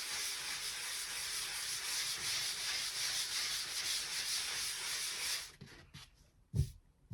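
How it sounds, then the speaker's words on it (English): Drywall joint compound being sanded in circular motions during a sheetrock repair: a steady, close, hissing scrape for about five seconds that stops, followed by a few light knocks and handling sounds. "we are going to sand over the tape. Just do it very lightly though."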